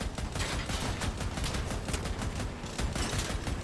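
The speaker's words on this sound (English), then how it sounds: "Oh, there's two people shooting at me." Rapid, continuous AC62 Therm autocannon fire in Crossout hammers on without a break, a dense, loud stream of overlapping shots in a hectic vehicle battle.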